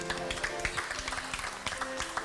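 Audience applause at a televised Italian singing contest show, clapping mixed with a held musical tone and faint voices, moderately loud throughout.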